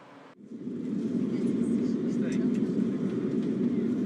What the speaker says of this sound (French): La phase de décollage terminée